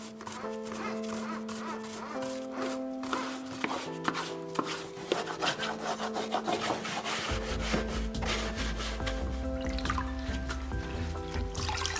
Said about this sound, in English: Use a brush to remove dry grass.